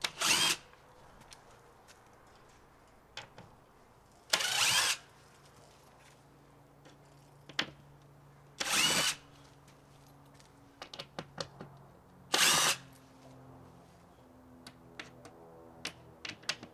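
DeWalt power driver backing screws out, several short loud bursts of whirring motor separated by pauses, with faint clicks and handling noises between them.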